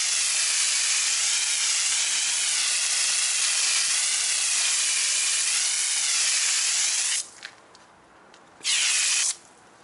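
Steady, loud hiss of a water hose rinsing wheel cleaner off a car wheel, running continuously before cutting out briefly and spurting once more near the end.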